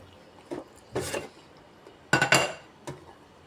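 Dishes and plates clink together in a home kitchen after a sweet and sour pork meal: a few sharp, bright clatters, with a light clink early, two louder bursts near the middle, and a small tap at the end. No one speaks.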